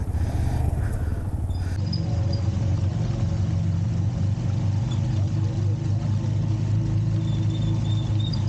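A motorbike rides along a snow-covered, slippery road in Beni Naran, its engine rumbling steadily and loudly close by from start to finish, with no talk over it.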